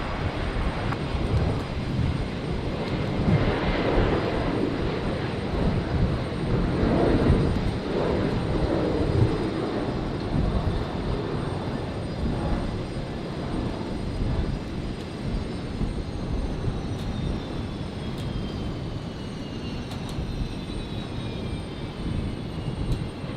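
Airliner landing at Brisbane International Airport on runway 01 right on a stormy night, a steady loud engine roar rumbling throughout and slowly easing off, heard from a distance with no talking.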